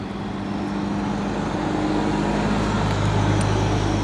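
A heavy truck hauling hay rumbles past on a nearby road, its low roar building and swelling toward the end over steady traffic noise.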